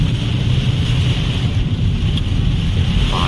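Typhoon wind and heavy rain beating around a vehicle on a coastal road near Hong Kong, a loud, constant roaring hiss of gusting wind and pouring water that does not let up. No voices.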